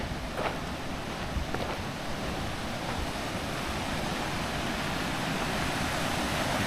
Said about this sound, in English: you can hear the creek